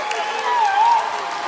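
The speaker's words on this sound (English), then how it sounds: "Can we get a round of applause for Ephi one more time?" Studio audience applause and cheering for an act on a televised talent show, a steady wash of clapping that swells slightly mid-clip, with a tonal voice-like sweep riding over it.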